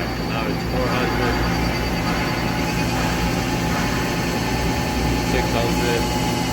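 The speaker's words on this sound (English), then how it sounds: "Let me turn the spindle for you." A Nakamura-Tome AS-200Y turning center with Y-axis and live milling runs its spindle, a steady mechanical hum that continues throughout with machine-shop noise behind it.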